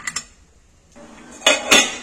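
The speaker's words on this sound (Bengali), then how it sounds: "আর আমি এটা এর মধ্যে চাপিয়ে দিই, জলটা একটু ফুটে উঠুক, এটাও চাপা দিয়ে দিচ্ছি।" A lid is set onto a cooking pot of water heating on the stove during breakfast cooking: two light metallic clinks, then two louder clattering knocks close by, with no voices.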